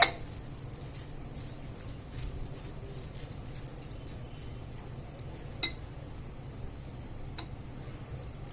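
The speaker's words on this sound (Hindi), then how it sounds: "अब हम इन मसालों को मिक्स कर देंगे।" Ground spices for mango pickle are stirred in a bowl, with faint, scattered clinks and taps of a spoon against the dish over a soft, steady background.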